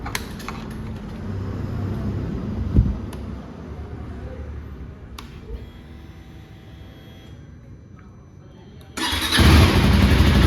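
A blue 2024 KTM Duke 390 motorcycle starts up near the end after a stretch of quieter ambient noise and handling clicks, its engine catching and settling into a loud, close idle.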